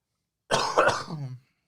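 A single short, throaty cough, close and fairly loud, alone in silence.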